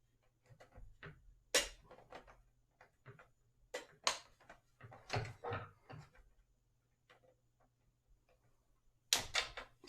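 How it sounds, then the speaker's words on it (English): Strong scissors cutting through packaging on a computer component box, with sharp irregular snips and crunches spaced across the clip amid quieter rustling and a low steady hum. "good strong scissors will work just fine"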